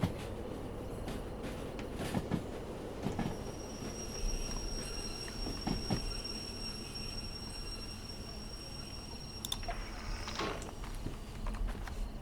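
A short train in the game Derail Valley rumbles steadily along with clattering wheel noise and a high, sustained metallic squeal partway through, fairly quiet throughout.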